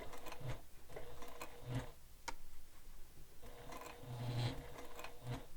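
A sewing machine stitching slowly one stitch at a time through bulky fabric layers on a sling pack, giving soft separate mechanical thunks and ticks with short pauses between them, quiet and close.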